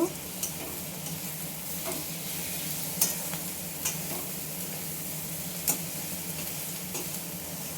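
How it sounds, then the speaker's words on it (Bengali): Tomato and onion masala stirred and fried in a pan, a continuous low sizzle with occasional light ticks and scrapes from the spoon, no talking. "এবার এই মশলাটাকে একসঙ্গে নেড়ে চেড়ে কষিয়ে নেব। টমেটোটা আর পেঁয়াজটা ভালো করে ভেজে নেব।"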